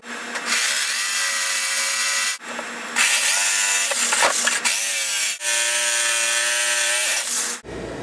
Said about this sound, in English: now I'm just going to go and chop it out with a jigsaw with a metal cutting blade on it